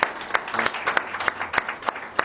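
Applause at a charity fundraiser certificate presentation: sparse, distinct claps from a small group in an irregular rhythm, moderately quiet with room echo.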